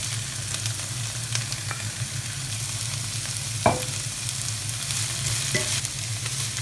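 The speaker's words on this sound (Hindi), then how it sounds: "एक मिनट और फ्राई कर लेंगे इसको।" Mixed vegetables with capsicum frying in a pan, a constant close sizzling hiss over a low hum, broken by one sharp utensil knock midway and a fainter tap later, no talking.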